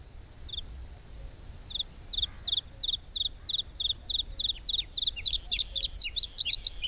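In Normandy, a songbird imitating various passerines gives a quick run of about twenty short, high chirps that speed up and grow busier toward the end. The notes are fairly faint and stand alone, with no talk.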